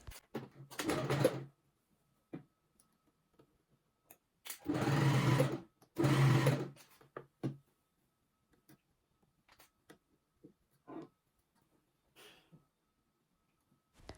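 Sewing machine setting a sleeve into the bodice of an Edwardian lace blouse, with several short rattling bursts of stitching between pauses and faint handling clicks, close and with no voices.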